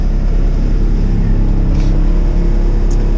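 A naturally aspirated Miata track car idles and revs steadily on a dyno with its coolant still cold, a loud continuous low engine drone throughout with no clear rise in pitch.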